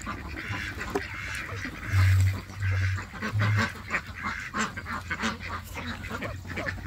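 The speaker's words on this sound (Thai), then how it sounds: "นี่เป็ดอี้เหลียง" A flock of Yi-Liang ducks quacks repeatedly and noisily nearby, loud overlapping calls coming in irregular bursts over a steady outdoor background.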